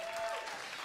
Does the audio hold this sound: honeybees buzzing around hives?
no